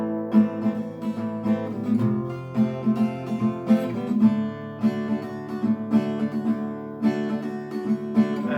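Acoustic guitar strumming a chord progression in a steady rhythm, with chord changes every second or so, moderately loud and alone.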